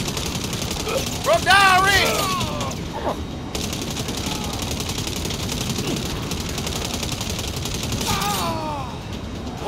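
Rapid gunfire in Saints Row, bursts of automatic shots running continuously under a voice, with a couple of brief vocal outbursts and a busy, loud game mix.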